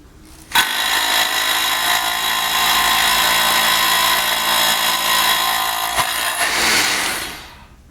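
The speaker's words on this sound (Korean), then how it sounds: "요 제품으로 14mm 3부 앙카 길이로 한번 뚫어 볼게요." Keyang model 283 corded electric drill boring a 14mm anchor hole gives a loud, close, continuous high grinding whine lasting about six seconds, starting abruptly and then winding down and fading at the end.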